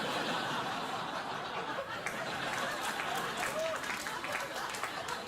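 A talk-show studio audience claps and laughs together in a sustained, fairly distant wash of applause mixed with chuckles and crowd murmur.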